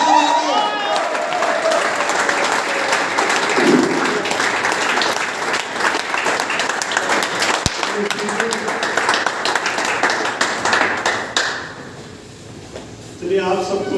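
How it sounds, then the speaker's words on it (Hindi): An audience at a live training session claps to welcome a guest, loud sustained applause with voices mixed in, thinning out toward the end as speech takes over. "जोरदार तालियों से वेलकम करते हैं।"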